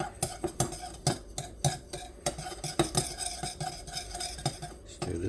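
Pork chops and apples are stirred in a Lodge cast iron skillet with thyme and salt, a utensil scraping and clacking against the pan in irregular close strokes over a faint sizzle.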